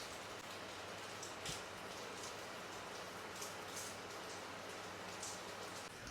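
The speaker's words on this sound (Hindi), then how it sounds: "और बारिश देखो पहले से तो तेज़ हो चुकी है" Heavy monsoon rain pours down in a dense, unbroken wash of noise, steady and enveloping, with occasional louder patters of drops striking nearby surfaces.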